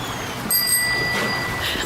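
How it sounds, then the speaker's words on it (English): A bicycle bell rings with a bright metallic ring that lingers and fades over about a second, heard over steady outdoor background noise. "the bicycle bell rings again"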